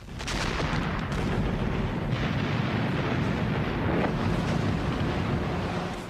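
Enemy gunfire and artillery meet landing craft approaching the main beach during the Overlord invasion, a dense, continuous roar of blasts and rumble filling the whole stretch without letup, mixed with surf and wind-like noise.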